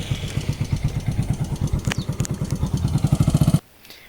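A motorcycle ridden along the Faruya–Rajasthali border road in Bangladesh, its engine thrumming in a fast, steady pulsing rhythm up close for about three and a half seconds before cutting off abruptly into near quiet.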